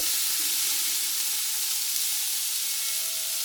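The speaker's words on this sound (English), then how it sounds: "We're going to add 2 tablespoons of butter. Then next, we're going to add 1 cup of diced up white onions." Diced white onions sizzle in butter in an Instant Pot, giving a continuous, even frying hiss that stays close and steady throughout, with faint stirring underneath.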